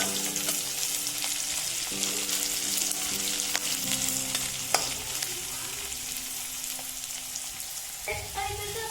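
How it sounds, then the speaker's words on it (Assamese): Onion and dried chili fry in a pan with a continuous sizzle, broken by occasional stirring knocks and scrapes against the pan. "এয়া পিঁয়াজটো ৰঙা হ'ব লৈছে লাহে লাহে, শুকান জলকীয়া আৰু পিঁয়াজ দিলোঁ আমি"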